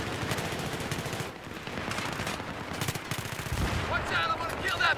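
PP2000 submachine gun fitted with a suppressor firing in the Battlefield video game: rapid bursts of muffled automatic fire amid other game sounds, with players talking over the shooting.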